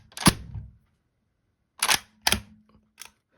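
The bolt of a deactivated M1904/39 Mauser rifle is worked by hand, giving four crisp metallic clacks and slides, close and clear against silence.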